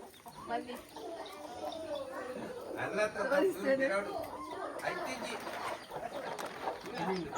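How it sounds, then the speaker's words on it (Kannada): Many young chicks cheep in a room of a village home, their high peeps overlapping steadily beneath a person talking nearby. "ಇಲ್ಲಿ ಸುಮಾರು ಕೋಕುಂಜಿಗಳಿದ್ದಾವೆ ಕೋಳಿ ಮರಿಗಳಿವೆ ನೋಡಿ"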